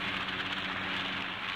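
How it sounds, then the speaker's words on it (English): A helicopter flies at the Farnborough air show, a steady broadband rotor-and-engine roar, fairly loud and continuous with no talk over it. "Helicopters are used in more leisurely, comfortable fashion to bring important visitors to the show, like His Royal Highness Prince Philip."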